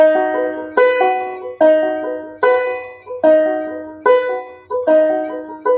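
A banjo repeats simple even rolls of bright notes without syncopation, each group starting with a strong attack and ringing out.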